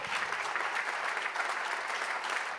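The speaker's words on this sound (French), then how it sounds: "Vous pouvez les applaudir" An audience applauds the jury members at the ESN & ICT 2022 awards ceremony, a steady, fairly soft wash of clapping lasting throughout without voices.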